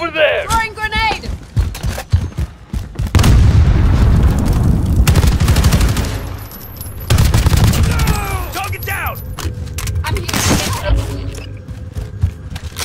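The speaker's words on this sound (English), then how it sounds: "Throwing grenade!" Grenade blast and gunfire in Call of Duty: Warzone, loud shots and a heavy booming explosion with rumbling aftermath, mixed with game voices and combat effects.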